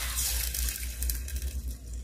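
Water runs from a tap into a pot in a home kitchen, to be boiled for Brazilian angu, a continuous close splashing stream with no talk.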